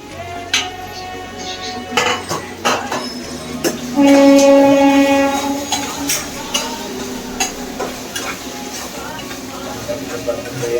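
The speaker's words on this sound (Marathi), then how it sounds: "कांदा आणि टोमॅटो गिरवून आपण कांदा लाल होईपर्यंत आपण तो भाजून घेतो" Onion and tomato sauté in a pan for a Konkan-style dried bombil curry, with steady stirring scrapes, a low sizzle and occasional utensil clinks, while a person talks over much of it.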